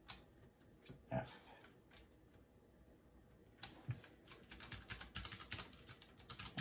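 A Ducky One 2 Mini keyboard fitted with Tai-Hao rubber keycaps is typed on up close, soft muted clacks in scattered bursts that thicken into a rapid run near the end.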